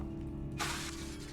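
A Reparo repair spell cast in the Hogwarts Legacy video game: after a low hum, a sudden bright shimmering burst with a shattering, crackling quality rises and lingers for most of the clip.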